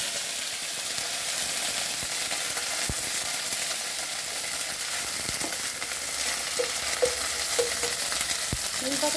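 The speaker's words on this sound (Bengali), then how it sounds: "নিম পাতাটা এইভাবে ভেজে নেবে হালকা হালকা" Neem leaves fry in mustard oil with a steady, even sizzle, while a spatula scrapes and taps against the pan now and then; close and continuous, with no talking.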